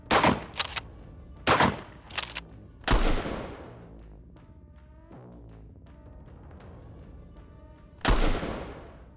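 A 590 pump-action shotgun fires several loud, sharp blasts, some in quick pairs, each trailing off in a ringing outdoor echo, with a final shot after a quiet stretch.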